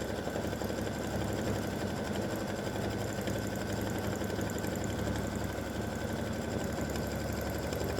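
An embroidery machine stitching a tic tac toe football game board at a slowed speed of 600, giving a steady, continuous mechanical whirring hum with a fast rhythmic chatter, close and unbroken.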